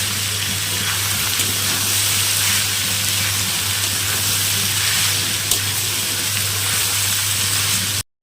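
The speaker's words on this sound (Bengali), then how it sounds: "আবার একটু নাড়াচাড়া করে নেব ভালো মতো, মানে একটু ভেজে নেব" Cauliflower stalks fry in a pan with a steady, close sizzle and crackle that holds evenly for about eight seconds before cutting off abruptly.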